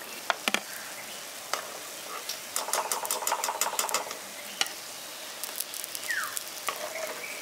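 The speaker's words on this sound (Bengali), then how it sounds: "এবার এগুলোকে উল্টে পাল্টে একটু মুচমুচে করে ভেজে নিতে হবে" Sooji biscuits crackle and sizzle in hot oil as they fry, with a steady fizzing bed broken by sharp pops and brief bursts of louder spitting, moderately close.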